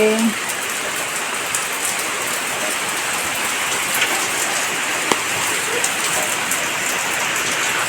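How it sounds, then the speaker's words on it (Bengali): Steady rainfall, a dense even patter close by with a few louder drips, no voices. "দেখো কেমন বৃষ্টি শুরু হয়েছে"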